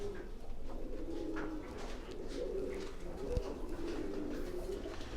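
Pigeons coo in low, soft, repeated murmurs, several overlapping birds nearby under a steady background hum.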